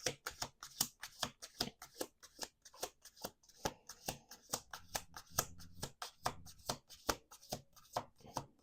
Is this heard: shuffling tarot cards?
yes